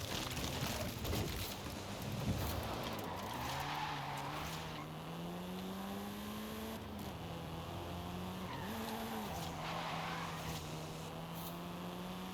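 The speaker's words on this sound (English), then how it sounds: "I've just been skidding along the whole route and not like aiming for things" Car skidding and drifting in the racing game Forza Horizon 5, a long sustained tire squeal with revving engine tones rising and falling, loud and continuous.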